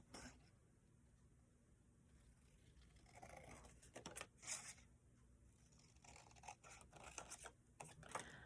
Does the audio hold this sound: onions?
no